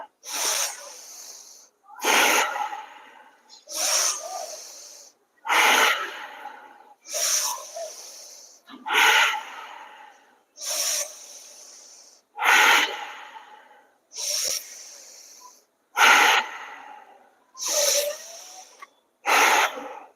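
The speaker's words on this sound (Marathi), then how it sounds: "दीर्घ श्वास घ्या आणि दीर्घ श्वास सोडा" Bhastrika pranayama, a forceful yogic breathing exercise, is heard as a steady series of about a dozen sharp, hissing breaths through the nose, evenly spaced roughly every one and a half seconds and close to the listener.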